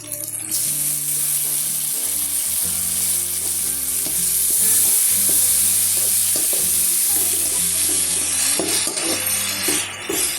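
Tomatoes sizzle and sauté with onions in a hot pan for a traditional paruppu urundai kulambu, a steady loud frying hiss with rhythmic scraping and stirring clinks of a utensil throughout.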